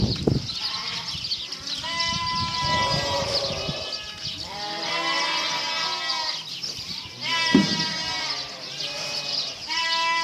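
Sheep on a Thai farm bleat loudly and repeatedly, several overlapping calls near and far over a few seconds, with faint background noise between cries.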